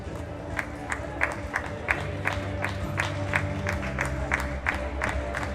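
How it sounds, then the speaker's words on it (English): Audience applause fills the hall at a women's junior classic powerlifting world championship, a sustained crowd clapping with steady rhythmic claps and light cheering throughout. "Big applause for this junior woman"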